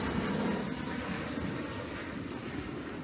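An Alaska Airlines airplane passes overhead with a broad, steady engine roar throughout the short stretch, heard outdoors with no talk.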